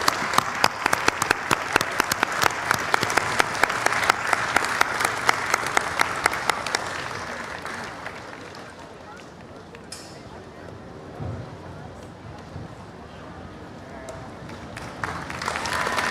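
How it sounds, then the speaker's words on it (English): A big outdoor festival audience at the World Cultural Festival in Washington, DC, breaks into loud, dense applause that fades after about eight seconds into a quieter crowd murmur and scattered claps. "Big round of applause, well deserved."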